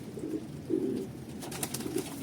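Young pigeons coo softly in a few low, rounded bursts near the microphone, with faint background noise after heavy rain.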